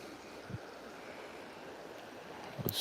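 A stream flowing into a river: a soft, steady wash of running water with faint wind, plus a couple of brief low knocks, quiet and without talk.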